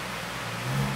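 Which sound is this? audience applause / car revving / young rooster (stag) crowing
car revving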